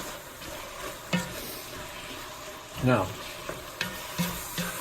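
Garlic and jalapenos sizzle in a pot for chili, a soft steady frying hiss punctuated by a few scraping stirs of a spoon, with a single brief spoken word.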